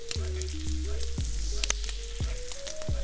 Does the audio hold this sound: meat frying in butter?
yes